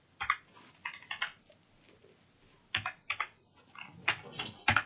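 Fingers type on a computer keyboard while someone fills in a salary slip in Excel, with quick clusters of close, crisp key clicks separated by short pauses.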